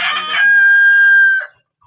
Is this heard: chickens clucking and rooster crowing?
yes